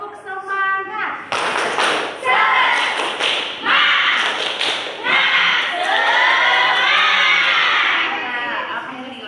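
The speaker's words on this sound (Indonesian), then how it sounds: "Ayo, biar lebih semangat lagi kita tepuk semangat yuk" A primary school class performs a rhythmic clapping chant together, loud patterned bursts of hand claps and thumps mixed with children's chanting voices, close and energetic.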